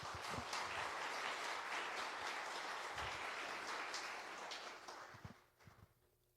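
A church congregation applauds, dense sustained clapping from many hands that gradually thins and fades out into a few scattered claps at the end.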